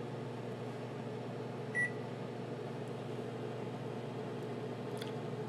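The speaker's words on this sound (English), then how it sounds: "And I'm putting the fig in the microwave." A microwave oven runs with a fig inside, giving a steady, even mechanical hum with a single short beep early on and faint clicks near the end.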